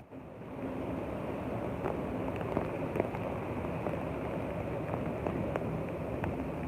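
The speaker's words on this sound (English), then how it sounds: "It is absolutely just like raining like crazy." Heavy downpour over a city boulevard in Queens, big raindrops falling in windless air, a steady dense broadband roar with scattered sharper drip hits, close and loud throughout.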